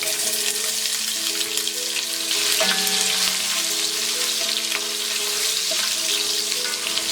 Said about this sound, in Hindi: अनियन फ्राई हो गए।